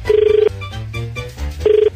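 Telephone ringback tone on an outgoing call, two bursts of the electronic warbling ring with a muffled gap between them.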